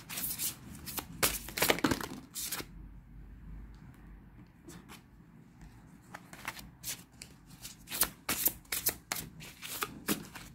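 Oracle cards riffled and shuffled by hand in quick bursts, crisp papery flutters with short pauses between, fairly close and alone without talk.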